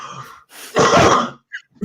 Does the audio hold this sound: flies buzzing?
no